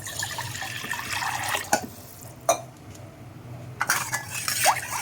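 Water splashes and trickles into a sink in short bursts, with a few clinks of utensils, close by and fairly quiet, no talking.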